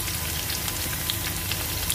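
Spices such as asafoetida, fenugreek, mustard seed and cumin sizzling in hot oil in a kadhai for tempering raita, a steady close crackling fry with fine popping, heard on its own.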